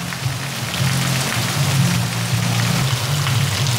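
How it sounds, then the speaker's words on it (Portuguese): Heavy Sunday rain pours down in Parelhas, in the sertão of Rio Grande do Norte, as a dense, even hiss of drops on surfaces. A low steady hum sits underneath, and no one speaks. "Olha aí, muita chuva em Parelha nesse domingo."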